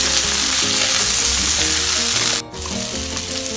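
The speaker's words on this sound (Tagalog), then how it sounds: "Mag-saute tayo ng garlic, ginger, red and green peppers," Garlic, ginger, and red and green peppers sauté loudly in a hot pan for sweet and sour chicken, a close, continuous sizzle with a brief dip midway.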